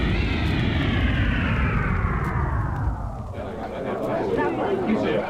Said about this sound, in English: the robot plane accompanies 6 magnificent ships to a soft landing